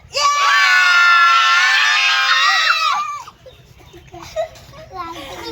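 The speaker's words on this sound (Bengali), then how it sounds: "সবাই একটু জোরদার করে চেঁচিয়ে নি নে ওয়ান টু থ্রি স্টার্ট" Several children shriek and shout together at full volume for about three seconds, a loud sustained burst of high voices, then fading into quieter chatter and scattered voices.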